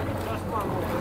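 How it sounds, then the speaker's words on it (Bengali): A boat approaching across Kotor Bay in Montenegro gives a steady low engine drone mixed with water and wind noise, continuous through a short stretch. "এই তো এখন পিছনে একটা বোট আসছে"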